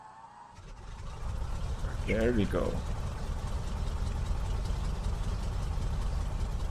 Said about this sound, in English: Engine is now running.